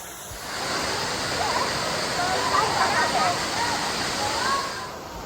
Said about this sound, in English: some of the other water chutes can erupt too